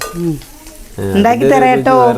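Food sizzles in a hot pan as it is stirred, with a voice sounding over the frying.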